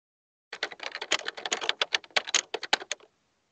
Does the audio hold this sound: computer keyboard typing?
yes